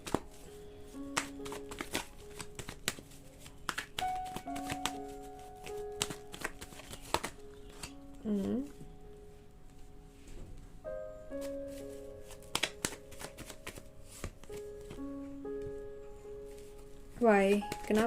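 Tarot cards are shuffled in quick repeated riffles and taps, irregular bursts of crisp card noise over background music with someone briefly speaking.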